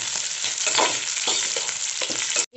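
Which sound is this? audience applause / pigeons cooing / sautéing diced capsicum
sautéing diced capsicum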